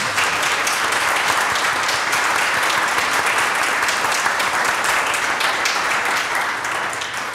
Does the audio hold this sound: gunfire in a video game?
no